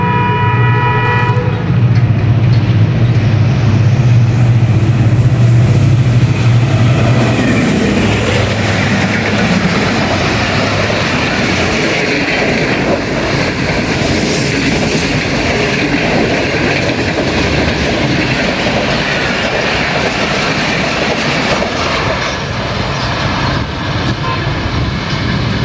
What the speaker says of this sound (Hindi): आप 8 डाउन तेज़गाम एक्सप्रेस को गुजरते देख लें ZCUP के साथ